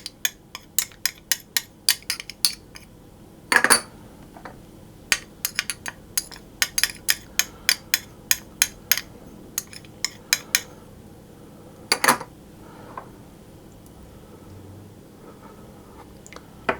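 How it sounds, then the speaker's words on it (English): Ingredients for panettone, including honey, being mixed together in a bowl, making repeated light clinks and taps of a utensil against the bowl in an irregular rhythm, close and fairly crisp, with no speech. "I'm simply going to mix them all together."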